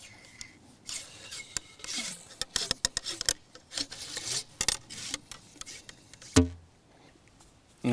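A sweet-oil-soaked rag set on a wiper scrapes and rubs inside a musket barrel, giving uneven rasping strokes with scattered sharp clicks and one louder knock near the end, close and alone.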